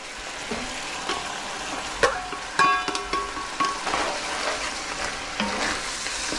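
Chopped onion and celery sizzle steadily in a hot pan, with a few sharp clinks and stirring scrapes over the constant frying hiss.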